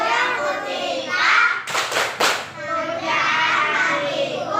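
A burst of hand clapping from a group of children singing a song about the Prophet, a few sharp claps close together, surrounded by lively voices.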